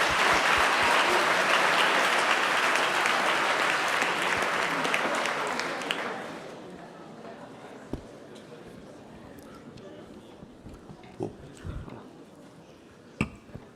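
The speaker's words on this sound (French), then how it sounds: "on peut applaudir sur le sujet « Doit-on craindre les menaces fantômes ?» Paul-Antoine de Carville." Audience applause at the Sciences Po ceremony for the 2015 Prix Philippe Séguin laureate: a dense, loud burst of clapping that fades after about six seconds into scattered claps and room noise.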